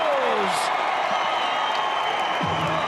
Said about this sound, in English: The crowd rises.